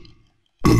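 An enemy in the video game Silent Hill 4: The Room lets out a loud, sudden low burp after a brief hush, close and abrupt.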